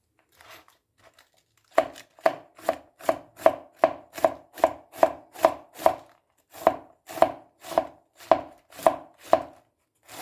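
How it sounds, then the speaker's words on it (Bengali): Cabbage being finely chopped with a knife on a chopping board: a steady run of crisp, close knocks, about twenty evenly spaced cuts after a couple of faint taps, with no voices. "চপার বোর্ডের সাহায্যে আমি বাঁধাকপিটা কেটে নেব খুব কুচি কুচি করে কাটার চেষ্টা করছি"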